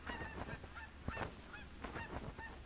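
A flock of geese in a hunting game keeps up a busy run of overlapping honks, with repeated calls rising and falling at mid distance and no one speaking.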